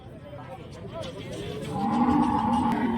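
Background chatter and shuffling at a dairy cattle market in Santhipuram, Andhra Pradesh, then a cow lets out a long, loud, low moo that fills the second half.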